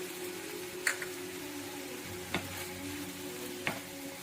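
Spices—chilli powder, turmeric and cumin powder—being stirred into a urad dal curry in a pan, with a low steady sizzle and a few sharp scrapes of the spoon against the vessel.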